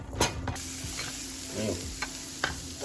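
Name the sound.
vegetables added to sizzling curry in a pan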